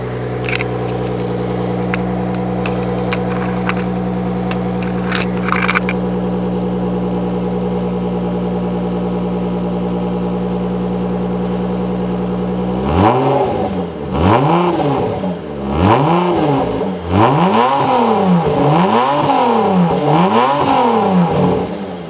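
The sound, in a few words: Mitsubishi FTO 2.0 V6 engine revving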